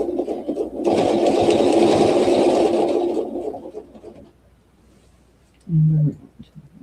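A sewing machine stitches a quilt along a ruler template, whirring steadily for about two seconds before winding down, followed later by a short separate burst.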